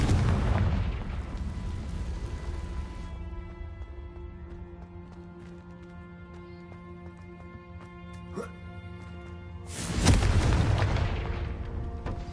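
Confringo fire spell going off in Hogwarts Legacy, with a loud booming blast at the start, a sustained tonal game ambience, then a second heavy burst near the end.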